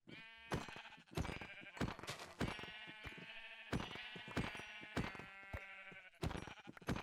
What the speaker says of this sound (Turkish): Şu koyunların birazını indireyim ben